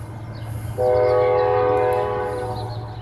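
A Norfolk Southern westbound steel freight train getting underway sounds a loud, sustained multi-tone horn blast over a low rumbling engine drone, the horn starting abruptly and holding for about two seconds before easing off.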